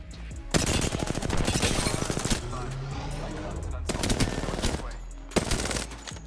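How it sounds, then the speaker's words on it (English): Mastiff shotgun blasts in the Apex Legends video game, heavy booming shots in several bursts with rapid crackling gunfire between them, loud and close, with a voice briefly audible underneath. "Did that guy just hit me with a Mastiff?"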